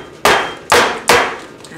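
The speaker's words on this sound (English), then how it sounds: "Sorry for the banging, guys," A cake pan full of thick pumpkin and cacao marble batter is banged down three times on a hard surface, each a loud, sharp thud that decays quickly, with no talk.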